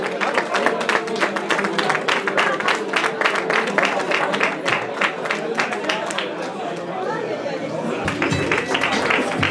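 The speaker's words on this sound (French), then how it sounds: "avec un tonnerre d'applaudissements, merci." Crowd at a trail race prize-giving in Provence claps steadily for the podium with crisp individual claps audible. Chatter runs underneath, and the clapping thins out near the end.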